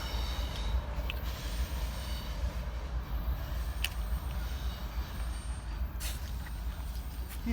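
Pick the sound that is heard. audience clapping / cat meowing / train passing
train passing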